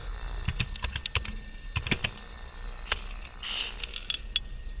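Typing on a computer keyboard while entering an Excel SUMIF formula: quick bursts of crisp, close key clicks with short pauses, heard alone without talk.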